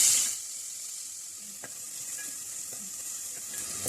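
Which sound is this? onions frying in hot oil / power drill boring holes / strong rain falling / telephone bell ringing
onions frying in hot oil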